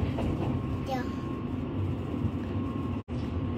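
A Spacia X bullet train in motion fills its passenger cabin with a steady, moderate rumble and hiss that carries on evenly, broken only by a brief dip near the end.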